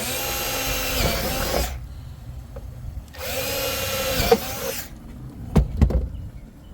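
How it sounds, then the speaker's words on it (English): A power drill whirs in two bursts of a couple of seconds each, drilling holes for a custom truck rod holder bracket, separated by pauses, followed by a few clunks and knocks. "we're going to drill holes right next to the tube"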